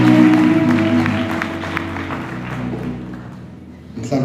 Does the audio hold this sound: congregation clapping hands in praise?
yes